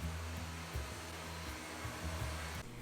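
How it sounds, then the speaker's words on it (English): A vacuum cleaner that smells like a wet dog drones steadily and close by in a home, its motor pitch wavering slightly as it is pushed around, with no voices. "Let's vacuum."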